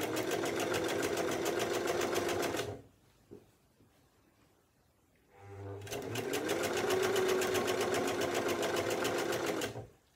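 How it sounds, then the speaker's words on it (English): A sewing machine stitches quilt cover fabric into a dress, a loud and fast close-up whirring run that stops briefly and then starts again for a second long burst. "allowing that to guide through the machine at the speed the sewing machine wants to take it."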